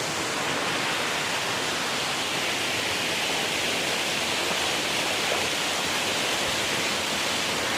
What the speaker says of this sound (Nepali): यो चाहिँ माथिपट्टिको झर्ना हो